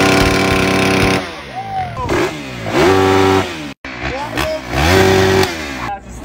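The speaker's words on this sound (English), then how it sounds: "I'm revving my bike" A motorcycle engine revs hard in several loud bursts, pitch rising and falling with each throttle blip, close by.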